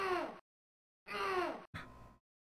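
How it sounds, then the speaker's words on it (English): A grunt-and-groan sound effect from the video game Stunt Island: two strained, pitch-falling vocal groans, loud and close, separated by a short silence, followed by a briefer breathy grunt. "Grunt and groan."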